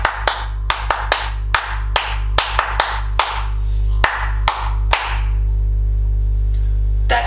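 A group of children or a class claps out a rhythm in a simple composition, sharp claps in an uneven patterned sequence, loud and close, with no talking, ending in a sustained low hum.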